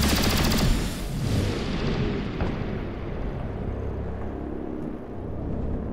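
Rapid bursts of gunfire in the XCOM: Chimera Squad video game, loud at first then trailing off into a rumbling, fading echo amid background game noise.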